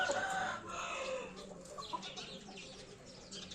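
A rooster and chickens cluck together in a sunny farmyard, a fairly faint, steady mix of fowl calls with a stronger burst at the start.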